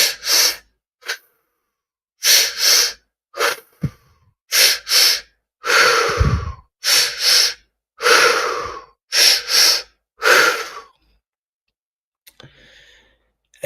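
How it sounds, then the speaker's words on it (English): Deep, audible breaths during a guided relaxation: a series of loud close inhales and exhales in uneven bursts, some sharp and gasping, others long sighing releases, separated by silent pauses. "Just keep breathing."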